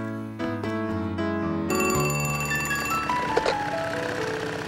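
A telephone rings with bright, repeated electronic bell tones, loud and close, running continuously with no talk over it.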